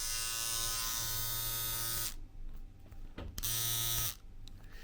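A Babyliss stubble trimmer with a Japanese blade runs close up with a loud, steady electric buzz, cuts out, briefly restarts, and stops again, with clicks and handling noises between the runs.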